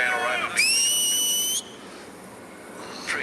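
A loud, sustained whistle is blown by a spectator in the crowd at a T20 cricket league match. It lasts about a second, and a shorter whistle starts near the end.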